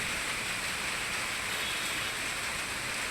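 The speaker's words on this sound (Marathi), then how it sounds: "जोरदार पाऊस बरसतोय" Heavy rain pours down over Nashik in a dense, unbroken hiss, steady and loud from start to end with no voices.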